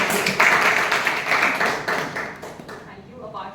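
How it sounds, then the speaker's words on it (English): Meeting attendees break into brisk, dense applause that runs loud and continuous, then thins and fades near the end as a voice starts to speak. "So please give them a huge round of applause"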